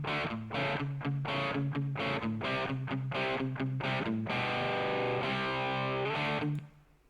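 A distorted electric guitar track from AmpliTube 5, panned hard right, plays a loud rhythmic riff of repeated chugging chords and sustained notes before cutting off at the end.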